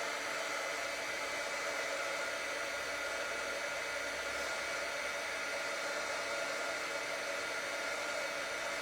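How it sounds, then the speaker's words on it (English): A heat embossing tool blows hot air over gold embossing powder on a Christmas card, a steady, even whooshing hiss like a hair dryer that holds for the whole stretch, alone with no voices. "we're going to heat emboss this until it changes"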